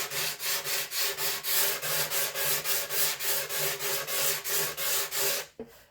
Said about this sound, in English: now I'm having like some 120 grit sandpaper, and I'm going to smooth everything out